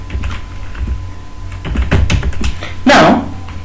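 Keys clatter on a computer keyboard in short bursts of rapid tapping, fairly close and moderately loud, with a person talking softly in between the keystrokes.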